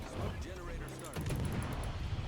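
Artillery-style gunfire from a naval battle video game, a few booming shots with a rumbling low-end roll, over steady background game noise and a lingering low drone.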